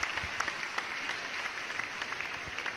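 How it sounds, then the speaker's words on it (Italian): An audience claps at a television show, giving steady, dense applause throughout with scattered sharper claps near the microphone and no voices over it. "Applauso, facciamo grazie."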